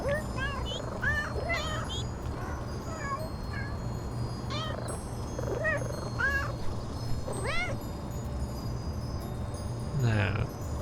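Several cats meow repeatedly while waiting for food, with overlapping mews scattered through a steady low background hum and a louder cry near the end.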